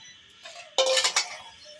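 Pots, pans and cutlery clink and clatter close by as dishes are washed at home, a quick cluster of bright metallic knocks and scrapes lasting about half a second after a softer lead-in.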